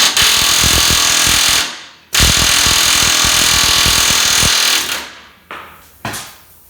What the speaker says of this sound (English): just cut them flat and then just grind them, because I'm going to keep grinding them